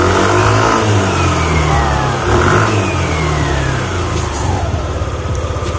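Yamaha Aerox scooter with a stock engine and tuned CVT, revved hard close by, its engine note sweeping up and down in loud repeated surges.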